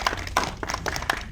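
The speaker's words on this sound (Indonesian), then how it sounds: "boleh kasih tepuk tangan yang luar biasa" An audience applauds at a film promotion event for an Indonesian horror movie, a short burst of several sharp, close hand claps in an uneven rhythm with no talking.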